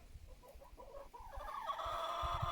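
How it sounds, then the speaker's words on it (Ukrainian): Chickens cluck softly at a distance over a steady outdoor background hum, with low scattered clucks continuing throughout. "Курка курку топче."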